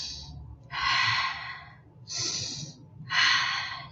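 Three slow, deep breaths taken close to the microphone, each a long airy rush lasting about a second, separated by short quiet pauses.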